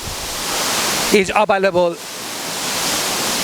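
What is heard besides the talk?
Nyauli Jharna waterfall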